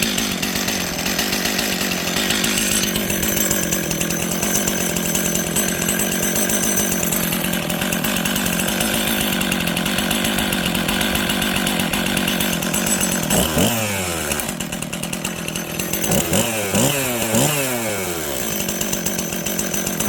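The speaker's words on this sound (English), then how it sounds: "that's a point for Stihl. That thing, I have never started that saw, friends, and it fired right away" An auction-bought Stihl chainsaw fires right up and runs close by with a loud, steady two-stroke buzz, then revs up and down several times in quick throttle blips toward the end.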